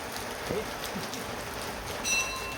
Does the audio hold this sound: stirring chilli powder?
no